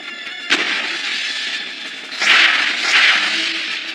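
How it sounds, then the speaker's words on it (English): Signal flares launch from a warship in an anime sea battle, a sharp whooshing pop followed by two more hissing bursts over a continuous loud rushing background. "Launch signal flares ordering ships to cease fire."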